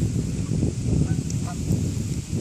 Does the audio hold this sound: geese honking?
yes